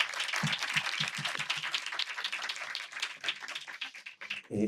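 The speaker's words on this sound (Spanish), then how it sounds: "Un aplauso también para Fabricio, por favor." Applause from the audience at a film screening discussion, a modest round of clapping that is fairly faint and steady, thinning toward the end.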